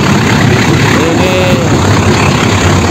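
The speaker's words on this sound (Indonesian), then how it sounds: "kalau di sini ngegas ya, kedengaran banget" Vehicle engine revving with the throttle opened near a bridge and passing train, a steady loud broadband roar filling the whole clip with a brief rising whine partway through.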